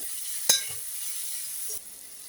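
Thinly sliced raw carrots frying in oil for vegetable fried rice make a steady, close sizzling hiss, broken by one sharp utensil clink early on, with no talking.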